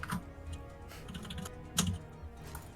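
Soft clicking of computer keyboard typing in a room, irregular key taps with a slightly louder burst partway through, faint and in the background with no speech.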